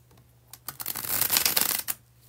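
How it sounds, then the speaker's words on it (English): A tarot card deck riffled in a bridge shuffle, a dense rapid flutter of cards lasting about a second and a half, close and fairly loud, with brief soft handling noises before and after. "when I do the bridge shuffle"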